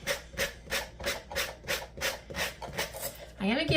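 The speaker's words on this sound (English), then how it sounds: "this edge a good sanding" Steady back-and-forth sanding strokes on the edge of an empty tin, about a dozen in an even rhythm, close and fairly soft, ending as a voice begins speaking.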